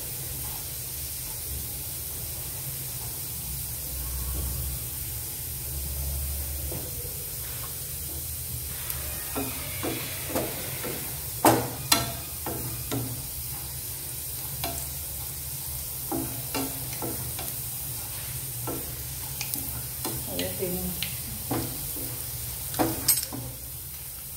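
Garlic frying in oil in a pan for bhindi-tomato shaak, a steady soft sizzle with a low hum underneath and scattered spoon clicks and stirring taps toward the middle and end. No speech.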